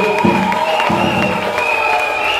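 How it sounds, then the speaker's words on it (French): An audience at a Christmas Sunday school children's event applauds as children receive gifts, with steady clapping mixed with a sustained tonal sound that could be music. "les autres, veuillez applaudir même pour encourager"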